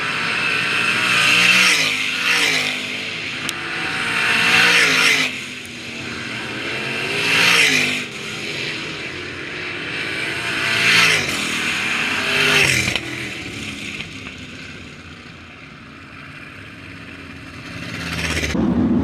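305 sprint cars roar past on a dirt track at Attica Raceway Park heat races in repeated loud waves, engines rising and falling as they pass, with occasional tire noise, fading toward the end.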